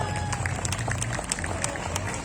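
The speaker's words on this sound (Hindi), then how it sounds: "तो ऐसे बच्चों का सबका तालियों से एक जोरदार स्वागत करते हैं हम" An audience in a hall claps to welcome students at a school get-together, a dense, steady patter of many hands with voices mixed underneath.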